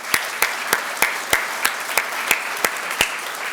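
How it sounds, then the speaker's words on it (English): Sparse, distinct handclaps at an awards ceremony, roughly ten sharp claps in a steady rhythm over a light wash of audience applause, fairly close and moderately loud. "So maybe we can give a round of applause for everybody who's here."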